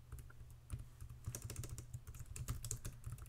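Rapid typing on a computer keyboard, a steady run of close, crisp key clicks with a few louder strokes, no talking.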